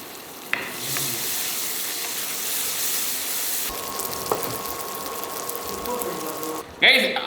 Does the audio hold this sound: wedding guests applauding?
no